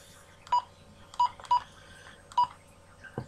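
A Midland G7 PMR446 walkie-talkie gives short electronic bleeps as its buttons are pressed, four or five clear tones spaced irregularly over quiet handling noise, no speech.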